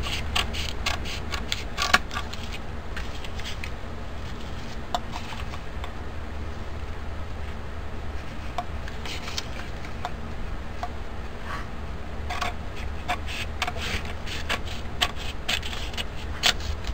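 Scissors trim the edge of a cardstock step card, giving a steady run of small, close snipping and rustling ticks at low volume with no talking.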